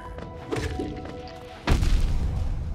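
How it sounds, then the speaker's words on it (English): A big explosion in the video game Hollow Knight lands as a sudden heavy boom and crash after a few lighter game thuds and tones, then rumbles on loudly. "That explosion's so big."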